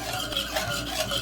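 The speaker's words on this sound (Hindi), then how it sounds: "इसको अच्छी तरह मिक्स करते रहना है" A chocolate and date mixture, with dry milk added, is stirred steadily with a spatula in a pot, making a continuous close scraping and mixing sound with no talk.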